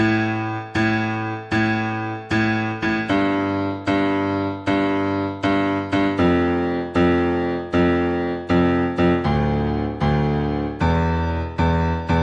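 A simple blues piano left-hand part plays alone, with steady repeated low chords and notes struck in an even rhythm, close and clear.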